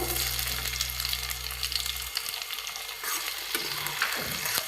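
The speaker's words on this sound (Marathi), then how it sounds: "इथे मी छान असं टोमॅटो छान परतून घेते" Tomatoes fry with soybean chunks in a pan for a dry soybean bhaji, giving a loud close sizzle and stirring with a low hum that cuts out partway through.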